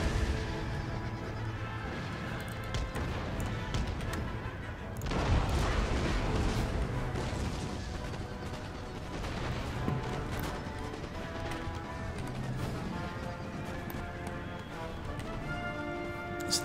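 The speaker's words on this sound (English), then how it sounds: "let's get my howitzers to stop pounding the infantry now" Howitzers fire in the Empire Total War video game battle, a steady barrage of booms, cracks and crashing impacts with a busy battlefield din throughout, loudest around the middle.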